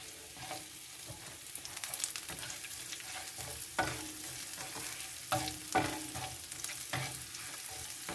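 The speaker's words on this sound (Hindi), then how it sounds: "इसमें ये अदरक लहसुन डाल दिया है। साथ ही मैं इसमें जो है वो ज़ीरा भी ऐड कर दूंगी।" Ginger, garlic and cumin sizzle and crackle in hot oil in a pan, with a steady frying hiss punctuated by louder bursts and stirring scrapes, close and fairly quiet.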